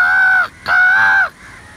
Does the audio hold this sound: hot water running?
no